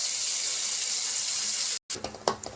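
Liquid poured into ground fish curry masala frying in oil, a steady close pour with a wet rushing hiss, then a brief break followed by a few sizzling spatters.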